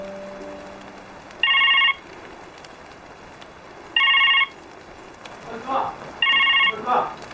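A telephone rings indoors in a drama scene, three evenly spaced electronic ring bursts sounding loud and clear, with a voice briefly speaking between the last rings.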